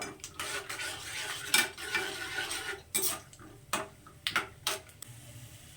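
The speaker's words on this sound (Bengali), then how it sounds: "বাদামগুলোকে এই দেখি তেলে ভেজে নেব বাদামগুলোকে আমি লাল লাল করে ভেজে নেব" Peanuts frying in hot oil, with a low steady sizzle punctuated by sharp scraping clicks and taps of a utensil stirring against the pan at irregular intervals, close and moderately loud with no talking.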